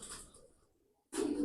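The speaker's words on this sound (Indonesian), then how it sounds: "Nah, ini burung salip." A domestic pigeon coos softly and briefly, then a louder, closer burst of cooing or wing noise follows after a short near-silent gap, with no talk.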